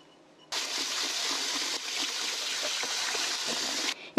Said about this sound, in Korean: 이거를 흐르는 물에 두 번 정도 씻어갖고 찬물에 한 30분 정도 우려 놓겠습니다